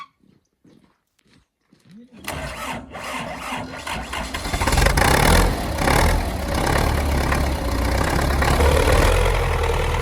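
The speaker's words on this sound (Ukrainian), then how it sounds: "Все, заводимо зараз, свічі підігріваємо і пуск." At minus 12 degrees, an engine is started after its glow plugs warm up. A few quiet clicks and thumps come first, then the engine catches abruptly and settles into a loud, rough, steady run.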